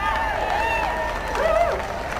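Crowd at a political rally for an independent candidate. Cheers and whoops rise over a steady roar, with shouted voices swelling near the middle before settling back into a continuous hubbub.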